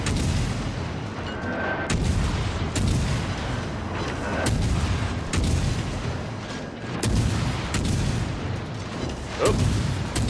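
Destroyer guns firing in the World of Warships Legends naval video game, a dense run of loud booming shots repeating every second or so over a constant rumbling game background.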